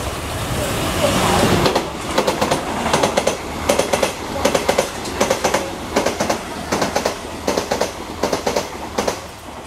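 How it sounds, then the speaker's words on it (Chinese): An EMU100 express train passes through a station platform on the Yilan line, a loud rumble followed by a long rapid run of rhythmic clickety-clack wheel beats over rail joints, close by. "第一月台将会有列车通过，请莫把站月台边，以免发生危险。"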